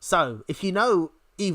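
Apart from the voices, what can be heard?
No everyday noises stand out.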